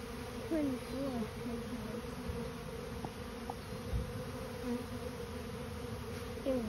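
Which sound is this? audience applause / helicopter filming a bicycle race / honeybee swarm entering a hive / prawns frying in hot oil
honeybee swarm entering a hive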